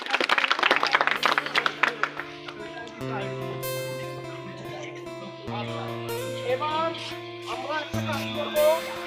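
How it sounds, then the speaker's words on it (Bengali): Students in a classroom clap for a classmate after a figure study drawing, a brief burst of quick, uneven hand claps at the start that gives way to music with held tones. "মুগ্ধর জন্য একটা করতালি হবে"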